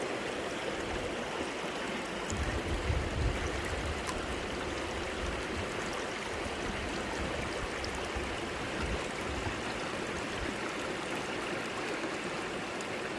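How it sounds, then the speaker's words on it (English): Steady stream water flowing and trickling around a gold pan at a Scottish panning spot, a continuous close wash of babbling water with no talk. "You've got more water flowing here."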